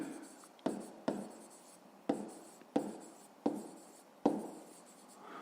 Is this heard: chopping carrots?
no